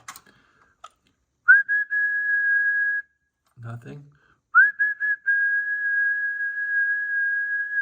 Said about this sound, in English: if I press the mic and whistle, I should get voltage here.